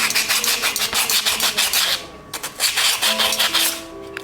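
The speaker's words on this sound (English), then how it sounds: "I am taking the matkis and scrubbing it like this nicely to get an even surface everywhere" Steady, close rubbing and rasping of a clay matki being scrubbed smooth, in repeated strokes with a brief pause midway, no talking.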